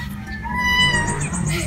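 A cat meows near its food bowl at home, a couple of drawn-out cries at close range under background noise and a speaking voice.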